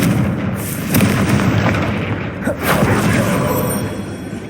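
The Confringo blast spell in Hogwarts Legacy sets off a booming fiery explosion with a crackling rumble that swells and fades over several seconds.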